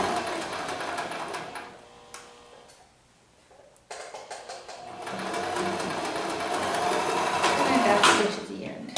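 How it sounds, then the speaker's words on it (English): A domestic sewing machine back stitches fabric to secure a seam, its fast mechanical whirr and ticking running nearly throughout with a brief slowdown midway, close and fairly loud. "do a little back stitch with my machine to secure the stitches"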